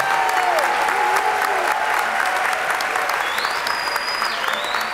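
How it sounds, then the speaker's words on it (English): An audience at a 2018 school district recognition night applauds the staff, a steady roomful of clapping with faint whistles or tonal sounds riding above it. "one more round of applause for all of our staff first"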